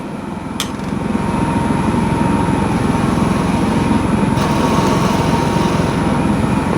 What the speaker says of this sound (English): I just want to get starter hole for the drill.